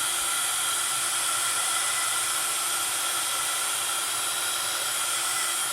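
A heat tool blows a steady, loud hiss while warming embossing powder on a snowflake card, a continuous close whoosh with no pauses or talking.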